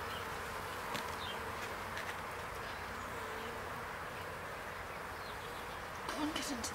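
Continuous low buzzing of many rescued wild honey bees in a nuc box, close and steady, with a few brief clicks and bumps over the drone.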